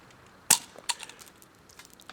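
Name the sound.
airsoft spring stick grenade going off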